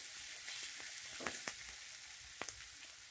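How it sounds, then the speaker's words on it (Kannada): Tomatoes frying in a pan on the stove for a pepper chicken fry, a steady close sizzle with a few scraping stirs of the spoon, no voices. "ಟೊಮ್ಯಾಟೊ ಮೆತ್ತಗೆ ಆಗಬೇಕು, ಸಾಫ್ಟಾಗಿ ಬೇಯಬೇಕು ಟೊಮ್ಯಾಟೊ, ಅಲ್ಲಿವರೆಗೂ ಫ್ರೈ ಮಾಡ್ಕೊಳ್ಳಿ."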